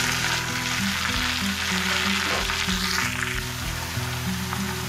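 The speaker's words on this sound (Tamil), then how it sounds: "கட் பண்ணி வச்சுருக்க மஷ்ரூமை தூக்கி அதில் கொட்டணும்" Sliced mushrooms tipped into hot oil with curry leaves sizzle in a steady, close broadband hiss, with a low droning hum running underneath.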